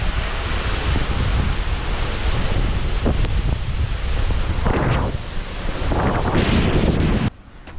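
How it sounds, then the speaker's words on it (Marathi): A mountain river near Patnadevi temple, Chalisgaon, roars close by, a broad continuous wash with gusty surges, ending abruptly near the close. "ही जी नदी आहे ही डोंगरी नदी आहे"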